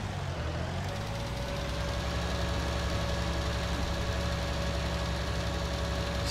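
Steady, droning tractor engine pulling a plough across a field in a farming game with a Zetor or Renault Atles tractor mod, a constant low rumble with a faint whine, no voices.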